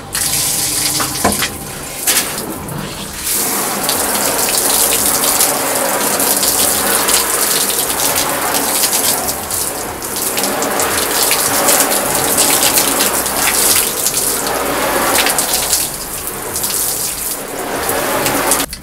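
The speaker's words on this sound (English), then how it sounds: "Let's turn on the water and test it out." Tap water runs steadily onto a linen fabric shower curtain in a bathroom, a continuous splashing gush with slight shifts in intensity and no talk.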